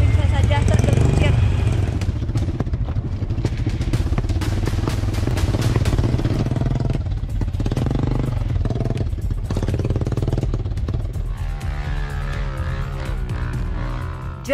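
A motorcycle carrying riders rumbles and strains over a slippery, badly damaged red-earth dirt road, the engine loud and uneven with rattling clatter throughout, while a voice talks over much of it.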